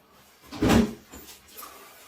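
A room door swings shut with one muffled thud near the middle, followed by a couple of faint softer knocks.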